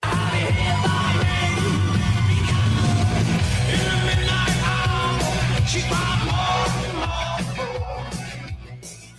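A rock song plays loud and full throughout, with dense driving instrumentation and vocal shouts, easing slightly in level near the end.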